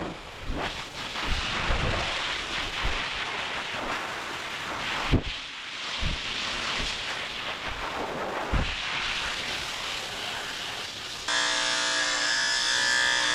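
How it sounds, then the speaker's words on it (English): A blow dryer runs steadily while drying the wet back end of a Scottish terrier during grooming, with a brief louder thump partway through and a harsh high whine toward the end. "now I'm going to finish blow drying his back end because it is still wet"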